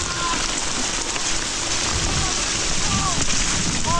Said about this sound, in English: It's pretty big hail.